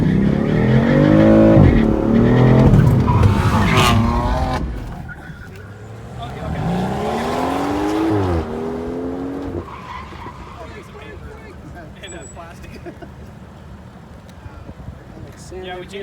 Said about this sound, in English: doing full acceleration and then braking